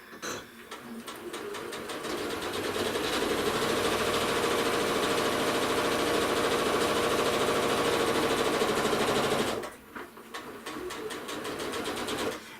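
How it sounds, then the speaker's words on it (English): A sewing machine fitted with a walking foot stitches through a quilt, a steady close mechanical whir and rapid needle chatter that runs evenly for several seconds, stops briefly, then starts again. "So I'm going to stitch down 5 squares."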